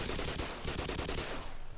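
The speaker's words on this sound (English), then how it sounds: "there's a guy there trying to shoot me up" Enemy gunfire in Black Mesa rattles out in a rapid automatic burst, loud and close, each shot clearly separated before the volley tapers off near the end.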